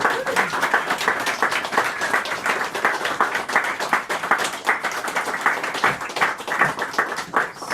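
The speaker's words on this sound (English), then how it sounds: "One more round of applause" An audience gives a sustained round of applause for a guest at a talk event, with crisp individual claps in a steady, lively patter that holds for several seconds.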